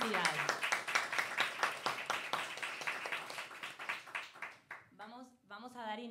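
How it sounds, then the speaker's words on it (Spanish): Applause from an audience at a piano competition award ceremony, many hands clapping in a brisk, steady run for several seconds before a speaker's voice begins over the fading claps. "Así que nuevamente un aplauso para todos."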